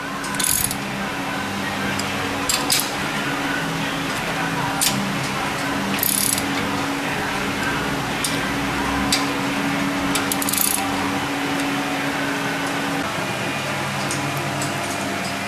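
A ratchet snugs down differential bolts on a rear axle, giving repeated metallic clicking and ratcheting over a steady background hum, with occasional sharper clinks of metal parts.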